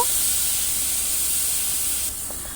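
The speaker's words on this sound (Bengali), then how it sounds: "দিয়ে দিচ্ছি পেঁয়াজ বাটা পেঁয়াজটা দুই থেকে তিন মিনিট আমি একটু ভেজে নেব" Ground onion paste frying in hot oil with cinnamon sticks and cardamom pods, a steady bright sizzling hiss throughout that drops slightly in level near the end, close and unbroken, with no talking.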